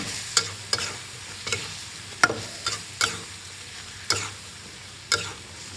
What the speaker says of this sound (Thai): ตามด้วยหอมใหญ่ แล้วก็พริกชี้ฟ้าค่ะ จากนั้นก็ผัดต่อเล็กน้อย